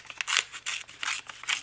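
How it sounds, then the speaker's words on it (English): Paper is torn along the edge of a journal page in a series of short rasping rips, about six or seven quick bursts, close and fairly quiet with no talking. "we're going to take this and tear the edge"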